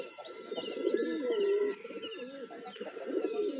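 Several pigeons coo nearby in soft, rolling overlapping phrases, with a few faint chirps from other birds in the background and no speech.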